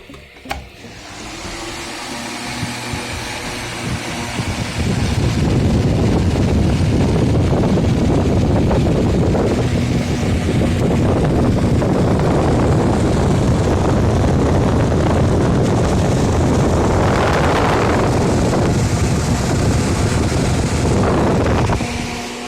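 A PREDOM METRIX electric fan starts up after months of standing unused, its steady broadband whir and airflow rushing loud and close, building from a quiet start into a continuous hum that holds to the end.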